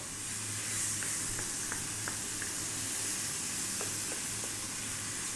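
Tomatoes cook in a pot for an Ethiopian vegan split pea stew, giving a steady soft sizzle and hiss with a few faint clicks and pops scattered throughout.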